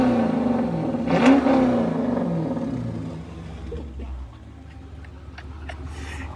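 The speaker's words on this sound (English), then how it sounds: "Let me get y'all a rev real quick" A Dodge Challenger R/T revs hard in rush hour traffic, with one loud surging roar early on that settles into a lower idle rumble amid faint street noise.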